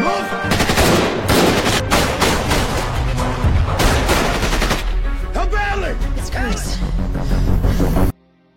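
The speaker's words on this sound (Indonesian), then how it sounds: "Kontak senjata kembali terjadi dengan para penyerang" Rapid gunfire from a film fight scene with armed attackers, dense bursts of automatic shots and loud cracks packed close together, with voices and shouting mixed in before the sound cuts off abruptly.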